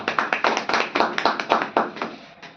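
A short burst of clapping, many hands applauding together at an even steady pace, fading slightly toward the end.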